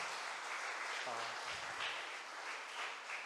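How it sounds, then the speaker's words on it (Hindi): Congregation at a Sunday evening Hindi church service clapping for God, a broad, continuous wash of many hands heard from a distance, with a brief low hum partway through. "क्यों ना हम जोरदार परमेश्वर के लिए ताली बजाते हैं इस समय।"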